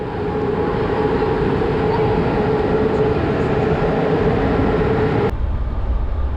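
A passenger train in Romania rolls along with a loud, steady interior rumble and rattle, heard from inside the carriage, ending in an abrupt cut near the end.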